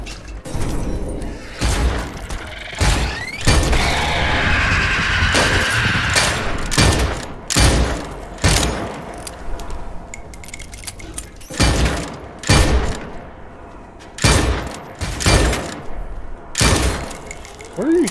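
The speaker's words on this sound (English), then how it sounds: "What are you shooting at behind me?" Repeated loud gunshots blast out in bursts while players shoot zombies in a video game, sharp reports spaced irregularly over a steady ambient game background.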